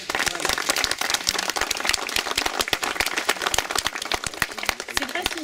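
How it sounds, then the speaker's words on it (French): An audience applauds at the inauguration of the Bois de la Pachère wood: dense, steady clapping from many hands, close and loud, lasting throughout without pause. "vous pouvez l'applaudir"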